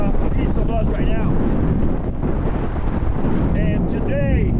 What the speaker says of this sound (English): It's just a little bit windy right now.